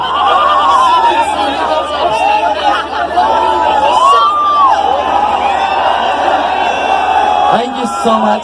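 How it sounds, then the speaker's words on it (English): A large festival crowd cheers and shouts continuously at close range, a dense wall of whoops and chatter filling the whole stretch with little let-up. "all the boys want make some noise for Sophie"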